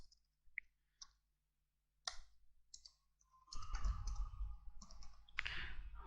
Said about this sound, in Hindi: फॉर एग्जांपल मैं इधर इंग्लिश में लिखता हूँ